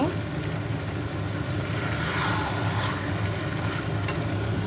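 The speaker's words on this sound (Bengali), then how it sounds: "তো এবারে ভালো করে এরকম করে কষিয়ে নেব।" Marinated food is sautéed in a pan on a home stove, a steady broadband frying hiss with scraping and stirring running continuously and close.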